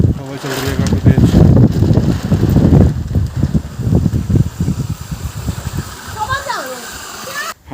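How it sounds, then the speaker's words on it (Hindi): Strong wind gusts through lanes between houses near Kalpeshwar on a stormy day, roaring and buffeting the microphone in heavy waves that ease off toward the end, with someone talking over it. "हवा चल रही है काफ़ी तेज।"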